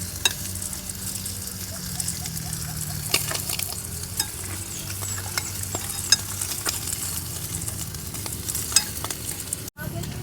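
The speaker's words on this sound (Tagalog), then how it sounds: "nagpiprito ako ng spam gamit sa sarili niyang mantika" Spam fries in its own fat in a pan at a riverside camp in Tanay, Rizal. A constant close sizzle runs throughout, with scattered sharp crackles and stirring clicks.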